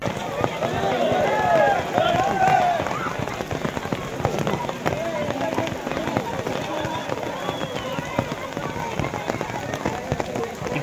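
Rain patters steadily on farmers waiting outdoors in a queue for urea in Vikarabad, a dense crackling wash under voices that are loudest in the first few seconds.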